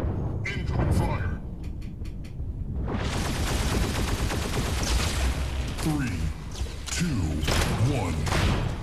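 Heavy incoming gunfire and explosive impacts in a Mech Arena tournament battle, a dense continuous barrage after a quieter opening, with a voice talking over it.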